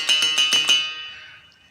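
A musical bow, an ancient single-string instrument, is struck several times in quick succession, giving a bright twanging tone that rings and slowly decays, close and alone.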